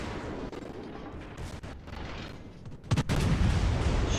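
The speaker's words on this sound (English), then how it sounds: "Shots out at the Daring." Warship guns firing in World of Warships during a naval battle, heard as a low rumbling barrage with a sharp, loud burst of shots near the end.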